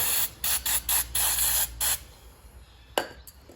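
Degreaser hisses from a spray can onto a salvaged red primer bulb from a Briggs & Stratton four-stroke lawn mower in several short, close bursts, followed by a faint click.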